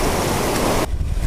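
Ocean waves break into a rocky white-water pocket on the Hawaiian shore, a loud, close, broadband rush of surf that drops off sharply near the end.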